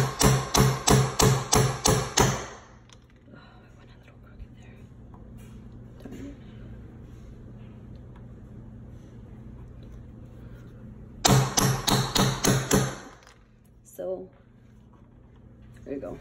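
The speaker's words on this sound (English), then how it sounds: "I actually started nailing this in already, but I'm almost done with it." Nails are hammered into a wooden hall tree in two quick runs of sharp, close blows, each run about seven strikes, with quiet room noise and a few faint taps between them.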